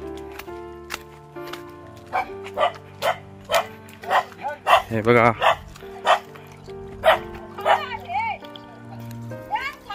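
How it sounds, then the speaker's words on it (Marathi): A dog on a remote forest farm barks repeatedly at approaching visitors, a steady series of sharp, fairly close barks with a few yips, while people talk over and between them. "बघा कुत्रा भुकतोय आमच्यावरती"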